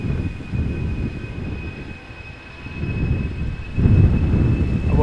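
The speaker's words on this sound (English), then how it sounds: "A350, it looks like it is entering the taxiway leading to center" Airbus A350 airliner taxiing toward the center runway at Amsterdam Schiphol: a low rumbling jet engine drone with a thin steady whine above it, dipping briefly and then swelling louder near the end.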